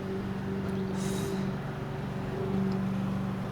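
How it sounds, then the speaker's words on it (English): Neighbours' lawn mower droning steadily at a distance, a faint, even motor hum over low background noise with no talking. "neighbors decided to start mowing at 8 in the morning"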